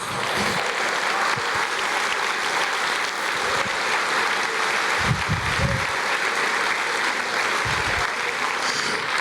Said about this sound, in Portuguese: Quantos creem, aplaudam o Senhor